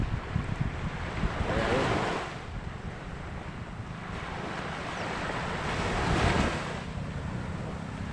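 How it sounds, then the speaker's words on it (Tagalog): Rough sea waves surge and wash steadily near Burias Island on an overcast day, swelling twice into louder rushes, with heavy wind buffeting the microphone throughout. "masungit ang panahon masama kulimlim medyo maalon"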